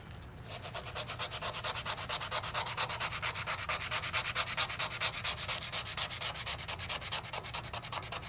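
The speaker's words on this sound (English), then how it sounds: "now I can stand behind it and get all that rust out too" Close, rapid back-and-forth sanding scrapes rust off a camper stove, a loud, continuous rhythmic rasp that speeds slightly as it goes, with no voices.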